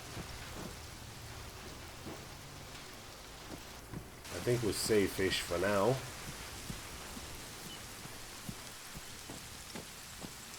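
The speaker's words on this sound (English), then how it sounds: "I think the rain masks my footsteps a little bit" Rain falls steadily in the Arma 3 game world as a soft, continuous hiss, with a brief louder burst of rumbling texture midway while someone speaks quietly over it.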